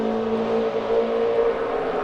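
NASCAR Sprint Cup car running a qualifying lap at Charlotte Motor Speedway, its engine droning at a steady high pitch, loud and continuous throughout with no other sounds.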